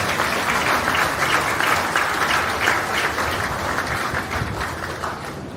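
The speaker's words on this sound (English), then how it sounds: "show these exhibitors and all the others how proud of them you are with a nice round of applause" A crowd at the Mills County Fair beef show claps for the exhibitors in a dense, steady round of applause that carries on evenly and fades slightly toward the end.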